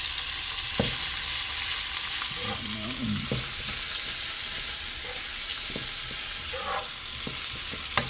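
Garlic and onion sizzle in a hot pan, a steady broadband frying hiss with occasional soft clicks and scrapes of stirring, close and even throughout.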